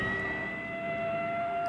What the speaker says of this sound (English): Here comes a fire truck.